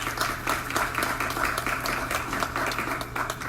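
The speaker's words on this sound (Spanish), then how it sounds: "Un fuerte aplauso para él, por favor." Steady, moderate applause rises from an audience at a public presentation event, a continuous clatter of many clapping hands lasting a few seconds.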